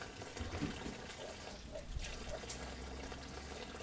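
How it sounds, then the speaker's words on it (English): Water running steadily from a tap next door as a painter rinses out his brushes, a faint, continuous trickling hiss under broadband background noise. "the water that you hear running is from the house next door. One of the guys that's doing some painting is cleaning his brushes"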